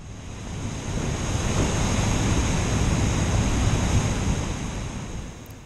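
Steady, loud roar of rushing water at Willamette Falls in Oregon City, a 42-foot falls, heard from close by as a dense wall of noise that swells gently and holds without a break.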